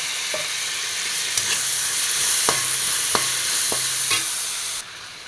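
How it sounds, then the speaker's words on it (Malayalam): Onion, crushed ginger and garlic, curry leaves and tomato sautéing in a pan, with a steady loud sizzle and a few sharp spoon scrapes and knocks against the pan, no voices. "ഇതൊന്ന് ഒന്ന് നന്നായിട്ട് വഴറ്റിയെടുക്കണം"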